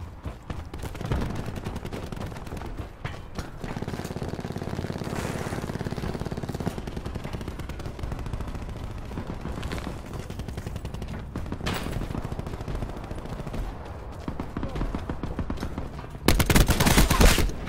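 Rapid bursts of ICR rifle fire in Call of Duty Black Ops 4, repeated crackling volleys throughout with a louder burst near the end, amid game noise.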